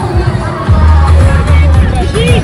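Busy crowd babble fills the stalls at a Hariyali Teej festival fair in Greater Noida: overlapping voices and chatter close by, with occasional louder calls rising over the steady hubbub.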